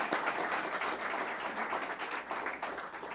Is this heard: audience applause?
yes